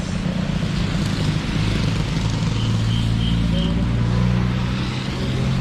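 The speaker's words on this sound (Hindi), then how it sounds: "हम लोग तो पूरा बारिश में भीग गया है, पूरा ट्रैफिक जाम है आज" Road traffic crawling in a rainy traffic jam, a steady low rumble of idling and creeping engines with a brief high whine partway through, continuous and fairly close.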